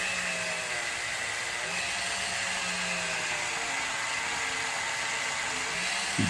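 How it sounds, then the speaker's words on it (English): A Dremel rotary tool whirs steadily against the two metal drive wheels of a running Marx HO 6096 Hudson model locomotive, giving a continuous high buzzing grind close by with no talk. "Now, while it's running, I can do the Dremel trick, and it's only on the two metal drivers."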